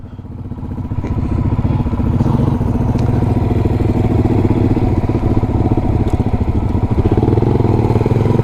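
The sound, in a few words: motorcycle shifting up a gear while riding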